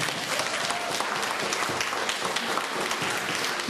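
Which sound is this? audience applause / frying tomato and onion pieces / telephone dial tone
audience applause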